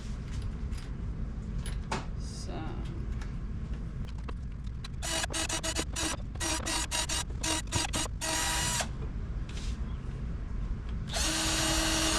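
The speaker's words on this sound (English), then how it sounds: "So if you don't do pilot holes, it splits. That's what I was afraid of. So I will do pilot holes." A power drill bores pilot holes in wooden fence pieces, with whirring motor runs in a rapid series of short bursts and a longer sustained spin at the end, loud and close.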